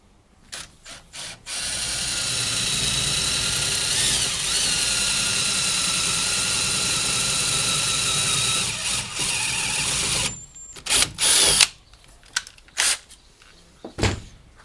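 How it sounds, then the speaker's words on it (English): A power drill boring holes through a Sprinter van's rear door, a steady grinding whine running continuously for about nine seconds, then stopping into a few short bursts and clicks. "and then we're going to drill."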